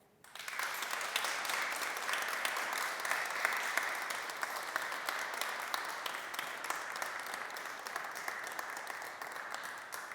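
Sustained applause at an award ceremony for nursing and midwifery honours in Ljubljana, starting abruptly and continuing steady and even from a seated audience in a hall.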